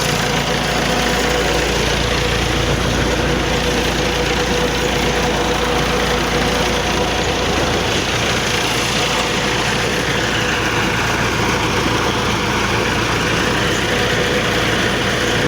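Massey Ferguson 285 tractor running steadily while its PTO drives a water pump: a loud, even engine drone that holds without change, close by and with no talk.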